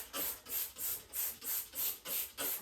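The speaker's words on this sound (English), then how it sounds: "I grab out my spray" A spray bottle pumps seven times in a steady rhythm, each squirt a bright hissing burst, close by with nothing else heard.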